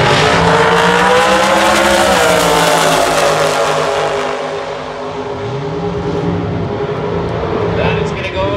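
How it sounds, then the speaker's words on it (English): A drag racing car makes a pass at a national event, its loud engine howling with rising and falling tones as it speeds by, close and dominant, with an announcer's voice running over it. "That is going to go to Chevy Reeves. 730, 278 miles an hour"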